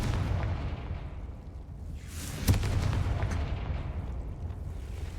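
Confringo fire spell exploding in Hogwarts Legacy, a single sharp blast with a whooshing burst, rising out of a low game rumble in the middle of the clip, fairly faint overall.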